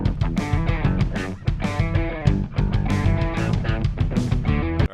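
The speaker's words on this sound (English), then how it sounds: "that right there is just the Telecaster by itself" Solo Telecaster electric guitar playing a riff, slightly driven, with rhythmic chopped chords and punchy repeated attacks over about five seconds, close and loud, no other instruments or voices.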